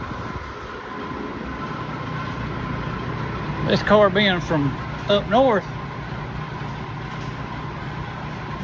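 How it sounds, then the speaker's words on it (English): Noisy fan running in a garage, giving a steady low hum throughout while someone talks over it close to the microphone. "let's cut this fan off, too noisy."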